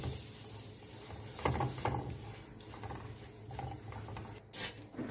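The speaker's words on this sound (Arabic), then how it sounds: "هنزل على الزبده كده بمعلقتين دقيق كبار، هشوحهم كويس" Butter and flour sautéed in a pan, a steady soft sizzle with occasional spoon scrapes and stirring sounds close by, no talking.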